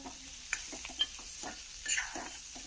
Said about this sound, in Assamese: আকৌ মই ভালদৰে অলপ টাইম ভাজি থাকিম যেতিয়ালৈকে মছলাখিনি ভালকৈ চব্জিৰ লগত মিহলি হৈ নাযায়